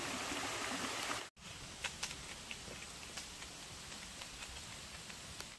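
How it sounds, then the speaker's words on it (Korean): A mountain stream flows down from Yeogung waterfall as a steady, quiet broadband rush with small splashing ticks, briefly cutting out once, with no talking. "여궁 폭포에서 내려오는 계곡을 바라보고 있습니다"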